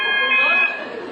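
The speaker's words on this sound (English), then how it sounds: "that's the alarm. Don't panic, don't panic." A building alarm sounds at a homes conference venue, a steady electronic buzzing tone that is loud and continuous and seems to sound alone.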